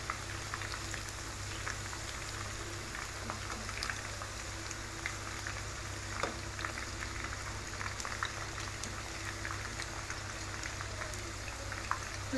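Chicken 65 pieces frying in plenty of hot oil, giving a continuous close bubbling sizzle with scattered small pops and crackles, steady and fairly quiet, with no talking.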